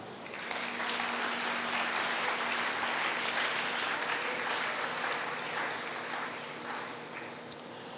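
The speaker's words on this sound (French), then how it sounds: "Nous l'acclamons." A church congregation applauding during a sermon on deliverance, a dense sustained wash of clapping from many hands filling the room, steady for several seconds with no voices standing out.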